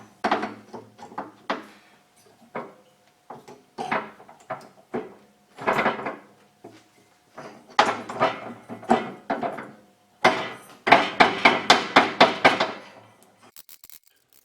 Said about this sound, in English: Now this took me about 7 minutes to get that pulley off.